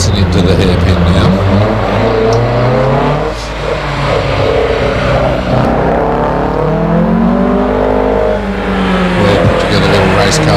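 A 1600 Datsun race car is tipped into a hillclimb hairpin, its engine loud and close, rising and falling through the corner with some tyre squeal, under continuous commentary.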